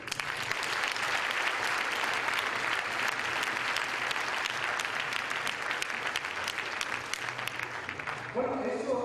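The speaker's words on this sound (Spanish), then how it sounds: "Bien, un aplauso para ellos." Steady, dense audience applause at a coaching conference fills the room, sustained for several seconds before thinning out at the very end as a voice begins over it.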